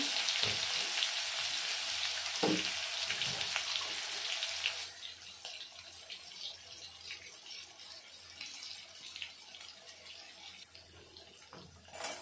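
Crushed garlic and green chili hitting hot oil with cumin and mustard seeds for a village-style vegetable dish, a loud bright sizzle at first that settles into a softer steady frying hiss with a few spoon knocks.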